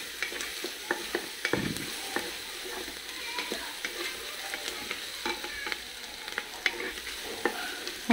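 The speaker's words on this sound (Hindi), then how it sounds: "इसे हमें अच्छे से ब्राउन कलर होने तक अच्छे से तल लेना चाहिए।" Potatoes, onions and green chillies fry in a pan with a steady, close sizzle, broken by frequent scraping stirs and small crackles over the whole stretch; no one speaks.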